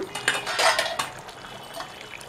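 Several light metallic clanks and scrapes as a lid is set onto a pot of chicken curry, close by with no talking.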